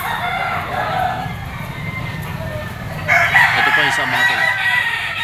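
A four-year-old black Golden Boy Gilmore bloodline rooster crows loudly and close at the Lipa auction market, its drawn-out call rising over someone talking in Filipino and the low murmur of the crowd.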